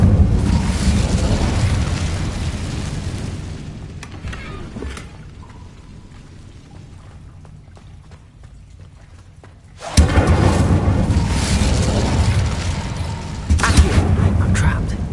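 An incendiary fire spell in Hogwarts Legacy erupts with a loud roaring, crackling burst. It fades down over several seconds, then a second powerful blast roars back in, with a further surge near the end.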